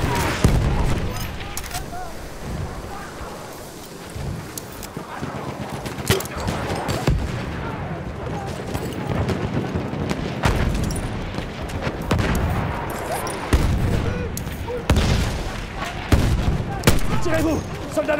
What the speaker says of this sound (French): Mitrailleuse ennemie en vue!